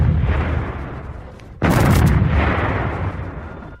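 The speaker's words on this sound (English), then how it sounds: "Explosions." Explosions in a War of the Worlds audio drama: a low rumbling roar that suddenly bursts into a sharp, loud blast, followed by heavy sustained rumble slowly fading away.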